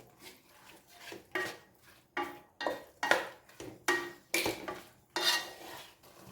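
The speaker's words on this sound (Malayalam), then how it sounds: "ഇട്ട് മിക്സ് ചെയ്യാം." Fenugreek powder being stirred into garlic pickle, with a spoon scraping and clinking against the container in a string of separate, fairly quiet strokes at a steady rhythm.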